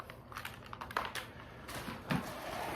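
An old computer keyboard handled while sorting through dusty PC junk, giving faint, scattered plastic clicks and rattles with a few sharper knocks.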